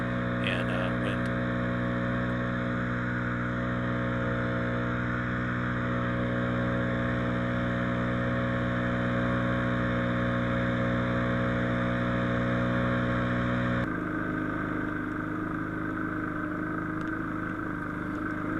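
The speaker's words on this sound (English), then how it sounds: "you see me here walking by, it's just idling, and it's still kicking up ash and embers" A leaf blower idles in a wildland fire area, droning with a loud, steady engine hum and strong harmonic tones that shift and soften near the end as the operator walks by.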